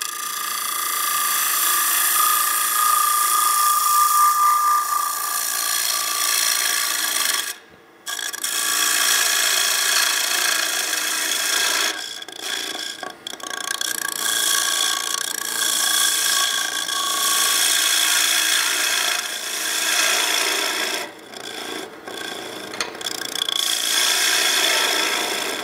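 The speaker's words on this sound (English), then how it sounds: "We are going to get a little chattering and all that as we start beading" A D-Way beading tool cuts wood on a lathe with a continuous, loud, raspy scraping and chatter, broken by a few brief pauses and short dips.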